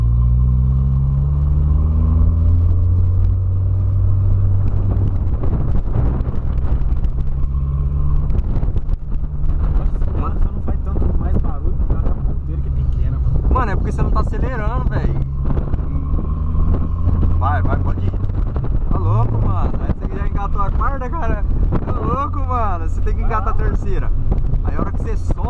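A Volkswagen Polo Sedan engine with its exhaust tip removed, running the same muffler, revs with a deep, loud exhaust rumble that swells in bursts over about 25 seconds, with wind noise and a voice talking over it.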